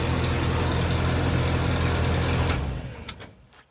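A 27-year-old Jeep YJ with a slight exhaust leak idles loudly close by, a steady low rumble that cuts off after about two and a half seconds, followed by a few faint clicks.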